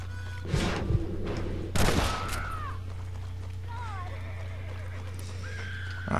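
A few loud gunshot blasts ring out in Red Dead, two prominent reports early on with a horse whinnying afterward and a steady low hum underneath.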